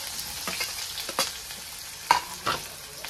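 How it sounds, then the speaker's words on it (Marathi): Onion sizzling in hot oil with cumin, mustard seeds, ginger and garlic on a chapati griddle, a soft steady frying hiss broken by several sharp clicks and scrapes of stirring, fairly quiet, with no voices. "यातच आता मी कांदा टाकून घेते।"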